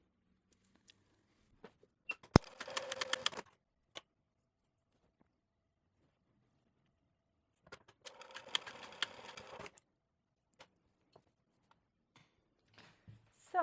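A sewing machine runs in two short bursts of rapid stitching while sewing a few stitches on a twist-front top, close and quiet, separated by near silence with scattered small clicks.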